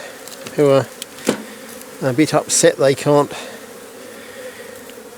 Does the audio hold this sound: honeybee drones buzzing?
yes